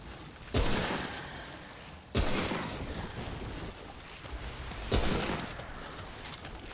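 Hunting rifle shots in Remnant: From the Ashes. Three loud, sharp single reports are spaced a couple of seconds apart, and each one leaves a long, noisy decaying tail over the game's ambient background.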